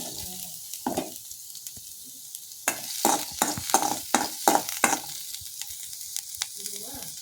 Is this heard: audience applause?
no